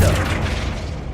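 A Flipendo knockback spell lands in Hogwarts Legacy as one short, loud, booming impact with a dull low thump and a quick burst on top, with no voices.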